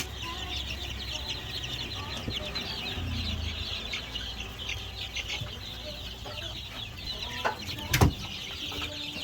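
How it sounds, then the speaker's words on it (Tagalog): Game fowl chickens, with a few native birds, clucking in a pen: scattered close clucks and chatter over steady background noise, with faint voices and a sharp knock near the end. "ito ay mga game fowl na merong ilan konting native"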